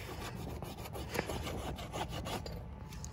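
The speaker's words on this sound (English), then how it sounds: "We scratched the cover." Cover of a language book being scratched, a close, quiet, continuous raspy rubbing with rhythmic strokes, alone without talk.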